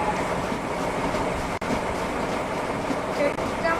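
A train rolls past in the Roblox game Jailbreak, a steady loud rumble with rail clatter that lasts the whole stretch, broken by one brief dropout.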